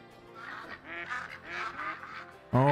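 Several ducks quack and honk in a loose, overlapping run as they fly in over a duck hunt in the New England mountains, fairly close, with a louder burst of calls at the end.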